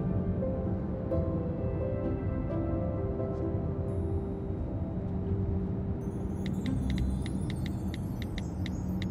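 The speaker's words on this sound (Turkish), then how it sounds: "Hayri Bey, biraz yavaş sürer misiniz arabayı?" Steady low rumble of a car driving at moderate speed, continuous road and engine noise heard from inside the vehicle, with faint jingling of keys late on.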